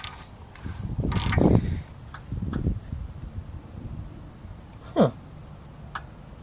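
A 2.5L engine crankshaft in a 1988 MJ being turned by hand with the crankshaft bolt, in a close, quiet setting. Clunky mechanical clicks, rasps and scrapes come in a few separate bursts.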